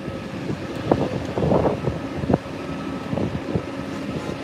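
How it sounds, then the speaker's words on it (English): Wind gusts buffet an outdoor microphone near a launch site on a tripod, giving low rumbling bursts that swell and fade over a steady background hum. "Oh, we got some wind."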